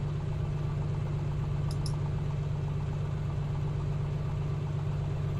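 Piper Comanche 250 engine idling in Microsoft Flight Simulator, a constant low droning hum with a faint pulsing beat, steady throughout with no voices.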